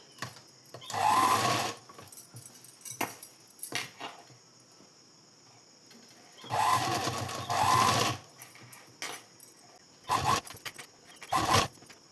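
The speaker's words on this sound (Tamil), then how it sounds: "இந்த எட்ஜிலேயே ஒரு தையல் போடணும்" A sewing machine runs in three main bursts of rapid stitching along the edge of a blouse, with short clicks and pauses between runs and no talking.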